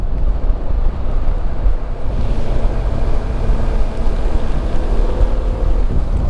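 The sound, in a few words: waterfall beside the road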